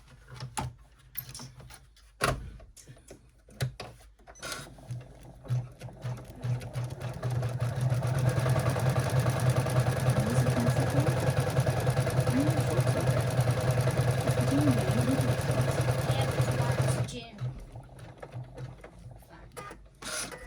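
An embroidery machine stitches a quilted Christmas stocking in the hoop. Its steady, rapid mechanical whirring and chatter runs for about ten seconds, with quieter handling noises before and after.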